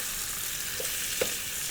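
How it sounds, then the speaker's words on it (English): Constant crackling sizzle of meat frying in dripping, with a few sharper pops and spits standing out from the steady hiss. "And I'm frying it in dripping."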